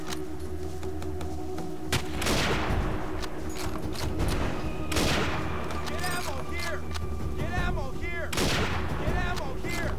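Gunfire from players shooting zombies in a co-op video game, repeated sharp shots every couple of seconds over a steady rumbling background, with occasional chatter.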